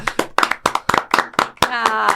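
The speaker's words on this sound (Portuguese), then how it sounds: "Salva de palmas" A studio round of applause greets a guest on a sleep-apnea health podcast: a short burst of brisk, evenly spaced claps close to the mic, ending as a voice begins.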